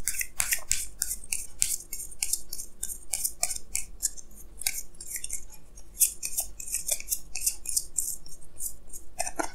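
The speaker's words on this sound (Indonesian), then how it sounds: "Jadi sini saya akan tarik lagi 2 kartu tambahan" Tarot cards are drawn, shuffled and handled up close, giving a steady run of crisp papery snaps, slides and rustles.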